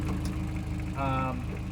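Toyota MR2 engine idling with a lean fault from a small vacuum leak crack, a steady low rhythmic thrum running throughout with a person talking over it.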